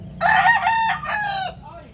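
A rooster crows once nearby, a loud two-part call lasting under two seconds over quiet outdoor background noise.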